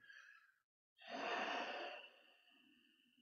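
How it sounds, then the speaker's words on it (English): Someone gently pushes air out through the nose during a breathing exercise, a soft close breathy exhale that swells, holds for about a second, then trails off alone after a brief silence. "we're going to push the air gently out the nose"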